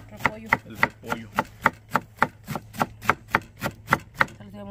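A knife chops cabbage on a cutting board for chicken pozole in about fourteen crisp, evenly spaced thuds, close and loud, with a faint background hum and no talking.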